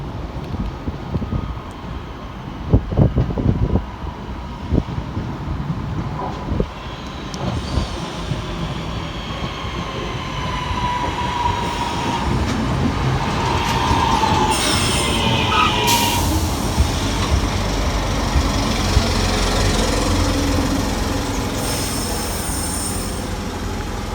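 A train rumbles steadily alongside, with clattering wheels and occasional metallic squeals, a continuous loud drone and no talking.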